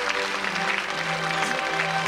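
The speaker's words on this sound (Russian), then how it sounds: "Аплодисменты Олегу Мурикову, он в финале" Studio audience applause on a TV quiz show as a contestant reaches the final, a steady, dense clapping wash over a held musical tone, filling the whole moment without speech.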